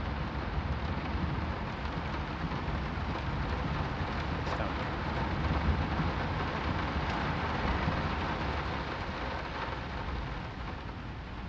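Steady heavy rain with rolling low thunder in the horror video game Layers of Fear (2023), a continuous dense roar that swells slightly midway, with no voices.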